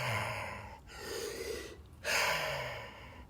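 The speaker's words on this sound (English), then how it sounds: "Same kind of crazy breathing." Intense ritual breathing during a yin-yang breath exercise: forceful, rushing breaths with gasping inhales and loud exhales, repeated close up with a brief pause between them.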